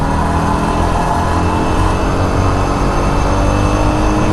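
A Yamaha R15 V4 and a Bajaj Pulsar NS200 racing side by side in second gear, their engines a loud, continuous high-revving roar with rushing wind, very close and without any talk.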